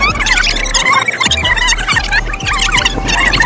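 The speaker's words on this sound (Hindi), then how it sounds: "ये पीछे से चीखे जा रहे हैं" Excited high-pitched screams and squeals from several people ring out over a steady background din in a busy setting, loud and repeated throughout.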